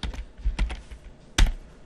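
Computer keyboard keys tapped while adding text on a Linux Mint desktop: a few sparse, close clicks, with one louder keystroke near the end and quiet pauses between.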